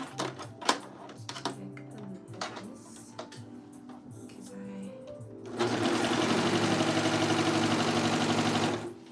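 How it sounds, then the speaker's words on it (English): A 4-thread overlocker stitching a hoodie starts up partway through, its fast, steady mechanical whir running loud and continuous after a stretch of quieter handling clicks and small thuds. "Use a 4-thread overlocker for the step as well."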